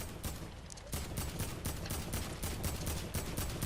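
Rapid automatic gunfire in the video game Fortnite, a steady stream of sharp, loud shots repeating several times a second without pause.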